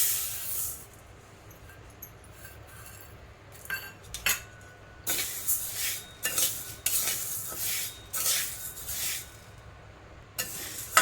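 Matki moth beans dry-roasting in a pan, with irregular scraping and stirring bursts and light rattling of the beans against the metal, moderately close, with no voices.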